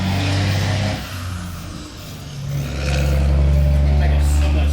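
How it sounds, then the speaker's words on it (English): A passing dump truck with a heavy diesel engine rumbles by, its engine note dipping and then building to a loud, close, sustained drone as it moves through. "We'll be right back after this dump truck gets the fuck out the way."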